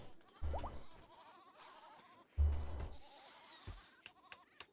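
Goats in the Rimworld colony sim bleat two or three times in quavering calls, spaced a couple of seconds apart, fairly close and clear over a quiet background.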